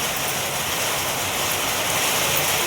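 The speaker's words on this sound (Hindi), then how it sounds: "बरसात इस साइड की आ रही है।" Heavy monsoon rain pours steadily onto a home's surroundings, a dense, even hiss of water close by with no break and no voices.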